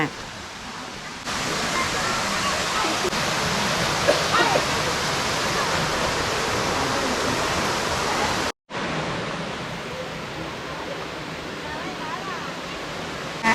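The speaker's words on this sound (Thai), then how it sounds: "ตอนนี้เราก็มาถึงแล้วนะฮะน้ำตกชั้นห้า" The fifth tier of Erawan waterfall in Kanchanaburi, Thailand, roars as a loud, constant rush of falling water close by, broken by a brief silent cut partway through.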